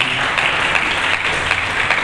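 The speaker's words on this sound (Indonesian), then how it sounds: "Berikan tepuk tangan bagi Yesus." A church congregation applauds, a dense, steady wash of clapping from many hands, loud and close, with no voices over it.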